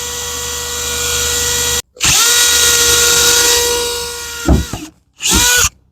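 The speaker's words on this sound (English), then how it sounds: "you're pre-drilling so that you can fit the screws" A handheld power drill whines at high speed as it pre-drills screw holes while a pet door is being installed. The motor runs in long bursts broken by brief stops, is close and loud, and no one speaks.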